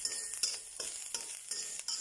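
Grated coconut dry-roasting in a pan for a mushroom curry gives a soft, steady hiss with a few light scraping stirs, faint and close.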